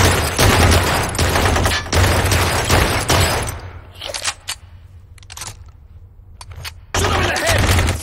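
Dense bursts of rapid gunfire from the shooter video game Blue Estate, loud and continuous at first, then a pause with scattered isolated shots before another heavy volley; voices shout over the shooting.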